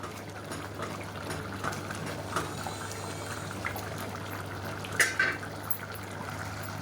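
A pot of biryani masala liquid simmers at a steady boil, a soft continuous bubbling hiss with a low hum underneath and a couple of brief clinks near the end.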